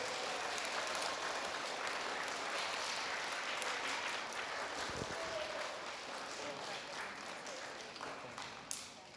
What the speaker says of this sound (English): Give all them a round of applause one more time